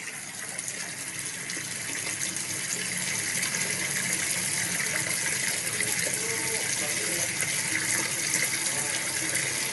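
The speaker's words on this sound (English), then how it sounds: "So when you hear that sound of running water" Water runs steadily and continuously like a tap or gush, a loud, even broadband rush that holds throughout with no pauses.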